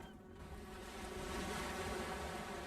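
Sea waves and wind make a steady, broad wash of ambience in the game Broken Ranks, rising slightly and holding constant with no one speaking.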